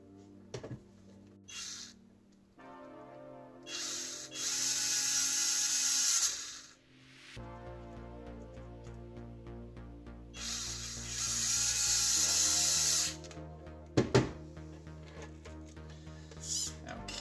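Small servo screws driven into a hexapod robot with an electric screwdriver, several whirring bursts of a few seconds each, separated by quiet pauses and faint clicks.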